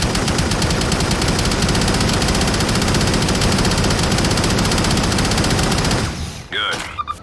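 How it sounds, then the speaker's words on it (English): Minigun fire in the 2007 video game Shadowrun, a continuous loud rapid rattle of sustained automatic shots lasting several seconds before cutting off into a brief electronic game sound. "Use your minigun to kill all the enemies."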